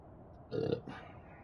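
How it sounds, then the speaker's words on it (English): One burp from a person during a livestream, a short low eructation followed by a smaller second gulp-like burst, moderately close over a faint background hiss. "Sorry for the burping, guys."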